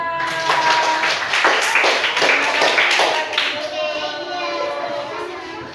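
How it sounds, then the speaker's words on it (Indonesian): Lively applause from a group of hands in a coding and AI training session, clapping steadily for several seconds before tapering off, with a few young voices in the background. "Tepuk tangan untuk kelompok 2."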